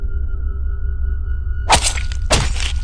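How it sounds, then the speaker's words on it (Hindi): Two sharp, swishing slashes cut in one after another over a low rumbling hum, each a quick bright whoosh with a metallic edge. "ये तो धारदार हथियार की आवाज है"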